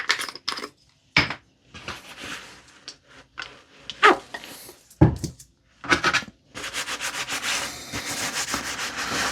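Vintage adjustable wrench scrubbed clean of grime and oil: short bursts of rubbing and scraping separated by pauses, ending in a longer continuous scrub, close and fairly quiet.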